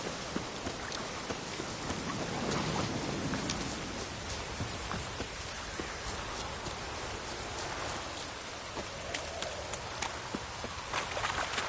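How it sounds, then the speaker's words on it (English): Steady rain falls in The Witcher 3, a dense even hiss of drops on the surface running throughout, with faint scattered clip-clop of a horse beneath it. "Looks like rain."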